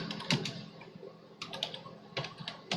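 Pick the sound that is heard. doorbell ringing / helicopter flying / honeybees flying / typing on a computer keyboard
typing on a computer keyboard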